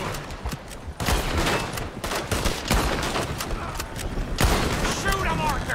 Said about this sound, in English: Shoot them, Arthur, before they blow us to high hell